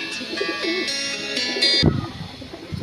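Fancy pigeons in a loft give soft, low cooing calls over a steady background tone, with a louder burst of cooing and rustling near the end.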